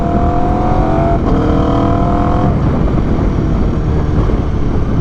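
A 2022 Aprilia RSV4 1100 Factory motorcycle under way, loud steady engine drone with rising tonal revs that shift pitch as it accelerates, mixed with heavy wind rush, no talk.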